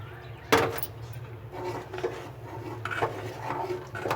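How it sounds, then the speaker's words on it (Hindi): A spoon clinks and scrapes in a pot as sago pearls are stirred in over very low heat, with a sharp clatter at the start and then soft, irregular scraping and tapping against a low steady hum. "साबूदाना ऐड करते जाएंगे और चम्मच चलाते जाएंगे।"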